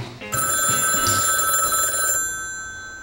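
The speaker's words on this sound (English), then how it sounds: "When suddenly, the phone rang." A telephone ringing loudly and close, a sustained bright electronic trill lasting about two seconds before fading away.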